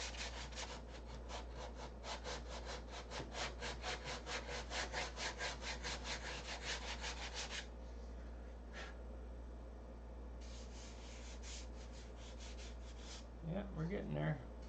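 Hand sanding with a sanding block on wood, a steady run of rhythmic back-and-forth rasping strokes, close and fairly loud, easing into quieter rubbing, with a brief louder scuff near the end.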